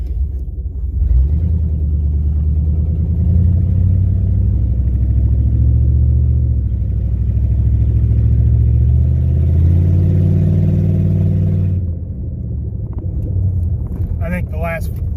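A car engine rumbles loudly and steadily at close range, then its pitch and level shift as the vehicle pulls away before the sound drops off near the end.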